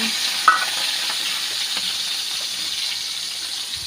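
Broccoli and pork sauté in a hot pan, giving a steady, loud sizzling hiss with faint stirring scrapes and one small clink near the start, no voices.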